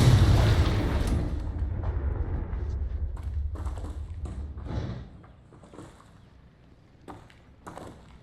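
A Confringo spell blast in the video game Hogwarts Legacy, a loud, deep explosion that rumbles and slowly decays over several seconds before giving way to scattered quieter thumps.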